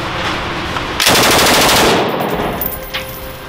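A Type 96 light machine gun fires one loud, rapid full-auto burst lasting about a second, followed by a fading echo across the range.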